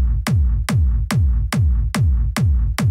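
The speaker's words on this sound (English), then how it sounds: "The kick on its own sounds like this" Deep kick drum played alone, seven heavy booming hits at a steady even tempo, each with a low pitch-dropping tail, loud and close with nothing else under it.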